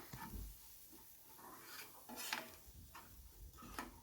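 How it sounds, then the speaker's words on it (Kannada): A utensil scrapes and taps in a pan while food is stirred and mixed, giving soft irregular clinks and rustles close by and faint. "ಸೊ ಇವಾಗ ಮಿಕ್ಸ್ ಮಾಡ್ತಾಯಿದ್ದೀನಿ."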